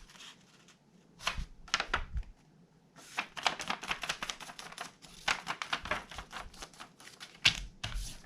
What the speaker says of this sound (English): I'm going to fold an X first so that I know where center is